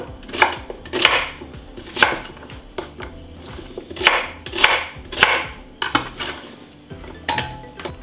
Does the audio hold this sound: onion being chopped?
yes